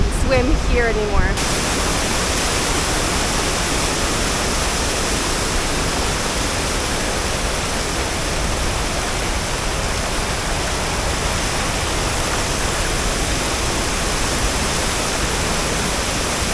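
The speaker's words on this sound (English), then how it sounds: "So those main waterfalls down there by the lake," A loud, constant rush of falling water fills the scene, steady and broadband without pause: the main waterfalls by the lake at Krka National Park, Croatia, heard up close.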